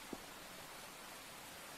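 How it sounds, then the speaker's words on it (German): Steady, hissing patter of rain falling continuously outdoors in a Roblox game, fairly soft and even, with no other sounds standing out. "Es regnet hier draußen."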